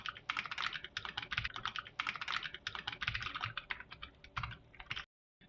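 Fast, continuous typing on a computer keyboard while coding a software test, dense clusters of close, crisp key clicks with brief gaps, ending in a short silence.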